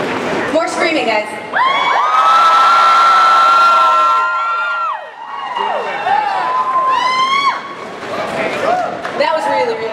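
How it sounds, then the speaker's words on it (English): A convention panel audience at Comikaze 2014 lets out long, loud bursts of screaming and cheering, a sustained roar that dips briefly and then swells again. "More screaming, guys."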